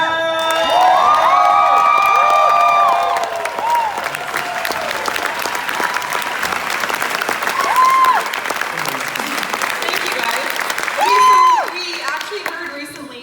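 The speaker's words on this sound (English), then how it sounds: "give a big round of applause and a welcome to Bri and Piet" Loud crowd applause with cheers and whoops at a fan festival as a couple is welcomed on stage, sustained throughout, with shouted voices and bright sustained shrieks rising above the clapping.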